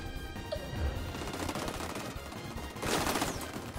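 Rapid automatic gunfire in the shooter video game XDefiant, a sustained rattling burst with a louder surge near the end, fairly faint in the mix and without speech.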